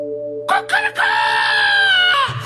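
A person's voice mimics a rooster crowing in one drawn-out, wavering cock-a-doodle-doo, close and loud, alone.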